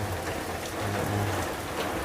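Steady rain falls and patters on surfaces, a soft, continuous wash of drops at moderate distance, heard alone without voices.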